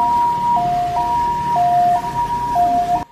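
Ambulance siren on an emergency run along a storm-damaged coastal highway route in Taiwan, wailing steadily in an alternating two-tone hi-lo pattern, loud and close, with road rumble beneath and no talk.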